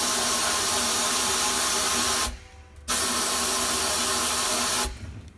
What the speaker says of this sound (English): you can see that the sand is blasting right out of there